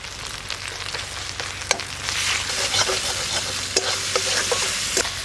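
Ground dried red chili paste frying in a pan for a small-fish curry, a steady bright sizzle with intermittent spatula scrapes and stirring clicks, close up and without speech.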